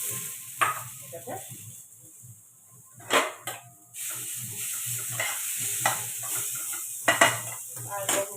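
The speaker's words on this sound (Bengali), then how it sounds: "আর যে দুপুরে যে ভাজাটা করেছিলাম, এই ভাজাটা গরম করবো" A fried dish left over from lunch is reheated in a pan, sizzling and hissing up close. Intermittent utensil knocks and scrapes against the pan break through the sizzle.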